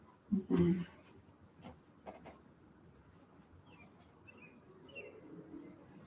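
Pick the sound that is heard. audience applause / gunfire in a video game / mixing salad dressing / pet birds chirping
pet birds chirping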